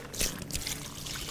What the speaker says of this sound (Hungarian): Víz.